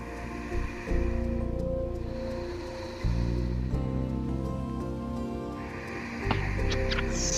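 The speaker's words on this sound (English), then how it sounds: "the breath always goes both in and out through the nose, creating a hollow sound in the back of the throat" Slow yoga breathing drawn in and out through the nose with a hollow, ocean-like rush at the back of the throat, long steady inhales and exhales shifting every few seconds, close and fairly loud, with no talking.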